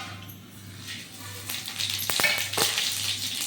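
Fennel, cumin, cinnamon and bay leaf are tipped into hot oil for a quail dish, setting off a close, rising sizzle with a few sharp pops and crackles as the whole spices fry.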